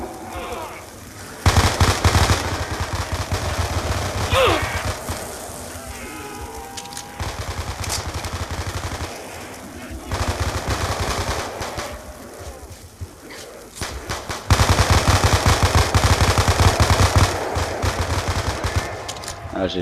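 Gunfire from a weapon in a multiplayer shooter video game, loud sustained automatic bursts broken by short pauses, with brief game effects in between.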